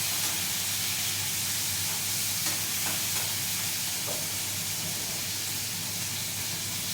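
Tomatoes cook in a pan with water and oil, sending up a continuous broad sizzle and hiss at moderate volume, broken by a few faint scrapes and taps of stirring.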